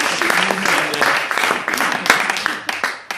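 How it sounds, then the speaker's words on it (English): Audience applause for Dave at an evening gathering, a dense burst of clapping that runs throughout with some voices mixed in. "I think we need a round of applause for Dave"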